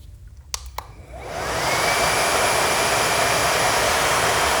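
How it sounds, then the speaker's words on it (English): A Kiara Sky nail dust collector switches on at its low setting. After a couple of clicks, the fan whooshes up to a steady, loud, broadband roar that continues unbroken and close. "So this is the first setting for the dust collector."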